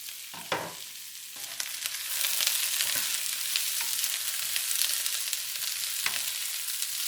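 Sugar snap peas with shrimp fry and sizzle in a pan, a steady hiss that swells louder after the first couple of seconds, with occasional stirring clatter. No one speaks.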